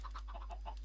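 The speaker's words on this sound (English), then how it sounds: "I'm just grabbing myself a adult chicken" Minecraft chicken clucking in a series of short, soft repeated clucks at an even quick rhythm, faint and close, over a steady low hum, with no voices.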